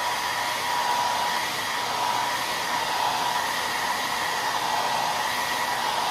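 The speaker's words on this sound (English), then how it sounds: "I'm gonna heat it up using the blow dryer" A blow dryer on its high setting blows steadily and loudly, close by, heating a plastic grommet strip on a racquet, with a constant airy roar and no pauses.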